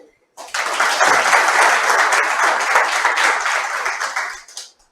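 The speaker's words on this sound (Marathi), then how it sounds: "त्यांच्यासाठी सुद्धा आपण जोरदार टाळ्या वाजवू" Lively applause from an audience at a Marathi-language guidance session, a dense burst of many hands clapping that starts abruptly, holds steady and loud for several seconds, then tapers off with a few last claps.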